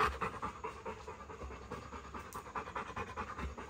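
A dog pants rapidly and steadily close to the microphone, a continuous rhythmic huffing with no talking.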